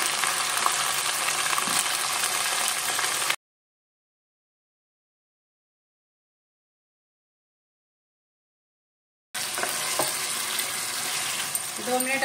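Chicken pieces frying with ginger garlic paste while being stirred for a white chicken korma, a steady sizzle with occasional utensil scrapes, broken by a long silent gap before resuming.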